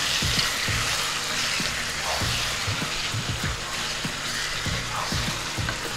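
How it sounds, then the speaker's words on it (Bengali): Mutton for a Bengali-style mutton kosha sizzles in a pan while being stirred and turned. Rhythmic scraping strokes land about every half second over a dense, continuous frying hiss. "ভালো করে নাড়িয়ে চাড়িয়ে দিচ্ছি, কষা হচ্ছে।"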